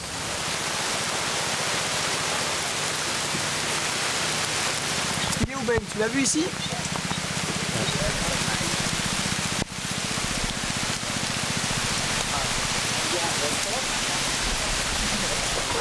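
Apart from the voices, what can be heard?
rain falling on a film set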